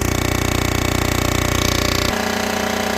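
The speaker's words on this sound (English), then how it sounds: "Now I'm going to make a cut on the head." A machine decks a VW cylinder head with a fast, rhythmic, buzzing chatter that stays loud and close, then shifts abruptly to a smoother, lower hum partway through.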